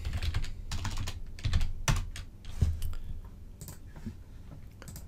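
Rapid clattering keystrokes on a computer keyboard while a command is typed at a remote-computer prompt, steady close bursts of clicks with brief pauses and no talking.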